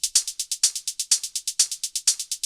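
Open hi-hat pattern from a melodic techno track, bright sizzling hits with short airy tails in a quick repeating groove, a few louder accented strikes landing over softer in-between hits, heard alone.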